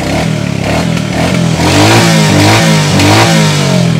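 A second-hand Royal Enfield Bullet motorcycle engine self-starts and revs repeatedly, loud and close, its pitch climbing and falling with each twist of the throttle.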